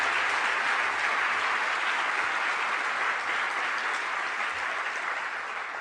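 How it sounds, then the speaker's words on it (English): Steady, dense applause from a luncheon audience fills the room, a full sustained wash of many hands clapping at even loudness throughout, with no voices over it. "Secretary Albright and Ken, I think they should give you a clap, man"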